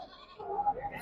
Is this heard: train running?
no